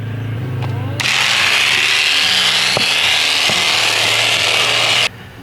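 Electric shears cut through alpaca fleece in a pen, a loud close buzzing motor that starts abruptly and runs steadily for about four seconds with scraping, rubbing texture, then cuts off; a voice is faintly present at first.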